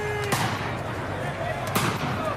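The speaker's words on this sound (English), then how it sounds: "Rubber bullets, tear gas and water cannon." Police fire rubber bullets into a surging crowd of fans at a presidential palace, sharp loud bangs cracking out twice over a dense roar of crowd noise.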